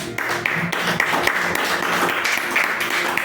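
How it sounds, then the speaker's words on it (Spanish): A church congregation breaks into loud applause for the Lord during a house-to-house preaching service, dense clapping filling the room close by for a few seconds with no clear talk over it. "Dale un fuerte aplauso al Señor"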